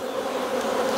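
Honey bees buzz while being transferred into a new Apimaye beehive, a close, continuous, droning hum with no pauses.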